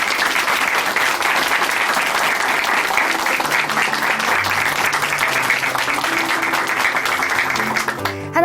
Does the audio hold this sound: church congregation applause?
yes